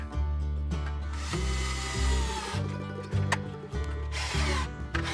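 A power tool whirs in bursts while wooden side posts are fixed to an existing wall for a chicken coop build, the motor spinning up and down several times close by, with no voices.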